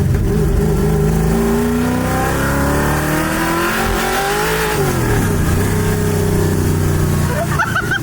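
A '65 Mustang's engine revs loud and close, pitch climbing then dropping and rising again in a rough, throaty pull, with a voice briefly under it.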